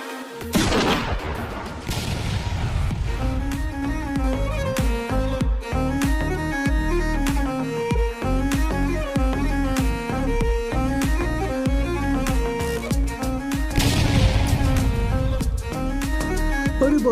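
Gunfire and explosive booms from the Free Fire battle game ring out in rapid repeated bursts over a driving music track, with a heavier blast near the start and another surge later on.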